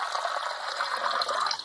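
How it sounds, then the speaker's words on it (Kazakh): Water poured from a container into a vessel of alcohol while mixing a solution for a homemade thermometer, giving a steady, close, continuous splashing gush that lasts the whole moment with no voices. "Міне біз сондай мөлшерде суды толтырдық."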